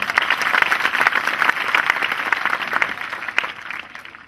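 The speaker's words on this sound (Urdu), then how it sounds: "ان کے لیے ایک بار پھر تالیاں" Audience applause at an annual school educational awards event, a brisk burst of many hands clapping together, loud and close at first, then thinning toward the end.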